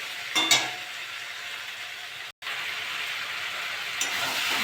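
Spices and tomato fry in a pan, making a steady moderate sizzle, with a couple of brief stirring scrapes and clinks near the start and a momentary break midway.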